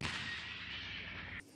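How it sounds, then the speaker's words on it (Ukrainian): A Leopard 1A5 tank's 105 mm gun fires a canister round on a front-line range, giving one heavy, loud blast whose broad roar rolls on before cutting off. "Сьогодні ми стріляли картечним боєприпасом."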